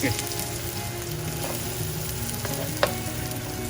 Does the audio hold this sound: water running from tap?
no